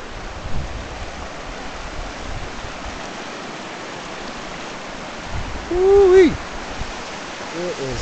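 Steady rushing and splashing of a hot spring waterfall at Bonneville Hot Springs, Idaho, a constant broadband roar with a brief bird-like whistle and a swell of louder water partway through.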